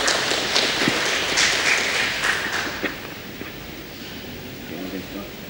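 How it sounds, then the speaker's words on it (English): A conference audience gives a round of applause, a dense wash of many hands clapping that is strong at first, then thins and fades to scattered claps and room noise. "Round of applause for you guys."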